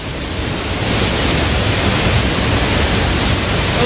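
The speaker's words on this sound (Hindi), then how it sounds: "ये ब्रिज है और इस तरफ है बोपखिल वाटरफॉल। ये सिर्फ एक दिन के बारिश में इतना पानी जमा हो गया है।" River flowing near Bopkhil waterfall in Shillong after a day of rain, a dense, unbroken roar of rushing water, loud and close with no talk.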